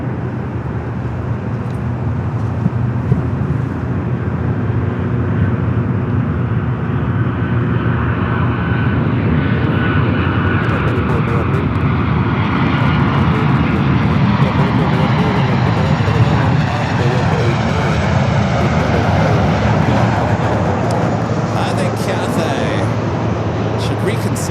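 Airliner taxiing toward the Tom Bradley gates at Los Angeles International Airport, a steady, loud jet engine roar and rumble that holds throughout, with broadband airport noise and no pauses.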